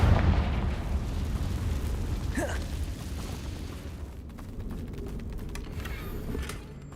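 A Confringo fire spell explodes in the Hogwarts Legacy video game, a loud rumbling boom with a crackling burst and a long roaring tail of debris and effects that fades over several seconds.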